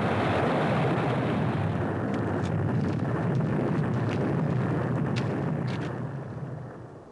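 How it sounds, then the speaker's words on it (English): A huge cartoon explosion, likely from a gold mine cave-in, roars as a loud, sustained broadband rumble with crackling bursts, slowly fading toward the end. "That's the biggest explosion I've ever seen."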